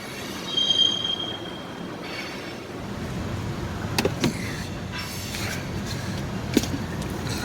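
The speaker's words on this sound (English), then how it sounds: "There's a train coming by and it's super loud." A train rumbles past nearby in a steady, broad roar, with occasional sharp clanks and a faint high squeal of wheels early on.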